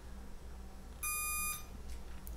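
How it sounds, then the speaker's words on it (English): Graupner RC receiver gives a single steady electronic binding beep lasting about half a second, clear over a low background hum. "within a second or two you will get this beep notification from model"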